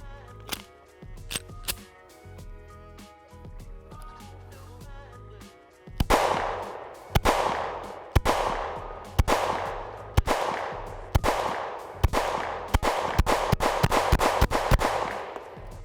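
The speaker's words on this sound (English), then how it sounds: "So let's shoot this thing some more." Shots from a Shadow Systems CR920X pistol crack out in a steady string of about a dozen sharp reports at a quick, regular pace, loud and close, after a quieter opening.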